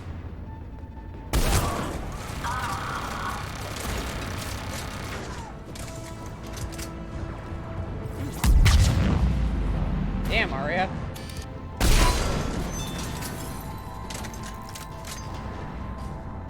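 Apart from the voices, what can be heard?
cannon fire and explosions in the video game Mass Effect 3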